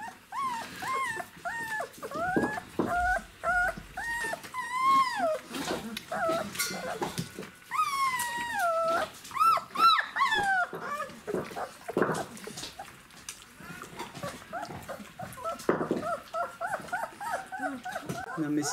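Wolfdogs on a raw BARF diet whimper, whine and yip in high, wavering cries with occasional barks, close by and fairly loud, recurring throughout while a person talks at intervals.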